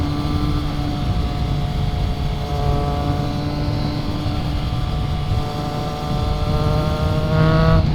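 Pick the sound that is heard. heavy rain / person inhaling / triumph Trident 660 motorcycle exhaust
triumph Trident 660 motorcycle exhaust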